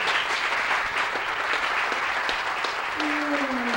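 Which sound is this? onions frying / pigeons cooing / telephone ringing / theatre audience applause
theatre audience applause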